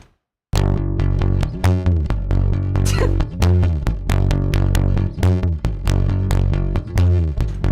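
A real bass guitar played dry with no effects or processing, plucking a steady rhythmic line of distinct notes that start suddenly after a brief silence, close and loud with no voices.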